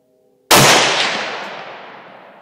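A single loud AK-47 rifle shot cracks out of silence, then a long rolling echo fades away over about two seconds.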